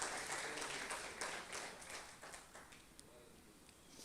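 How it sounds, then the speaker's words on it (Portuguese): A Baptist church congregation applauds during a Christmas service, a faint, distant patter of many hands clapping that gradually thins out over four seconds. "Uma salva de palmas, queridos, porque é só Ele que pode nos salvar do pecado que nos condena."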